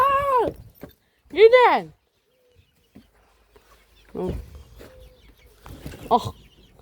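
Chickens clucking in a couple of loud, close bursts near the start, followed by quieter scattered clucks and rustling, with one more call near the end.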